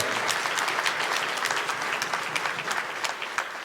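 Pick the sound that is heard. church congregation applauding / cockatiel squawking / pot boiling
church congregation applauding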